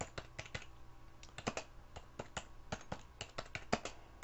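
Rapid, uneven keystrokes clatter on a computer keyboard, close by and steady, with short pauses between bursts of typing.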